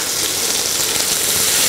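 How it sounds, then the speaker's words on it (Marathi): Garlic sautéing in oil in a pan, a steady bright hiss and crackle that holds at an even level throughout, close and loud with no voices. "थोडासा लसूण आपण परतून घेऊया."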